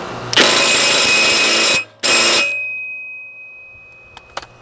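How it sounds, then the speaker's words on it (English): An impact wrench set to forward cinches down a blade bolt on a Hustler Raptor mower in two loud close bursts, a long one and then a short one, followed by a fading whine and a couple of faint clicks. "Take your impact wrench and put it on forward,"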